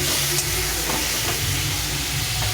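Finely chopped salted tomato frying in a pan for a fish curry gives a steady, loud, continuous sizzling hiss that stays close throughout, with no talking.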